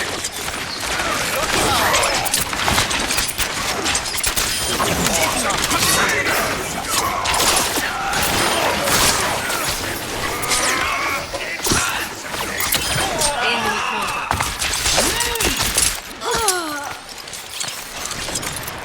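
Dense video-game gunfire pours into a deflect ability in a hero shooter, a continuous loud barrage of rapid shots and metallic impacts with clashing effects and a voice talking underneath.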